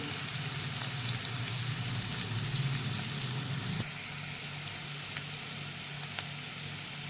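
Onions and curry leaves frying for a chicken gravy give off a dense, steady sizzle, loud at first and then easing to a quieter crackle with a few faint ticks.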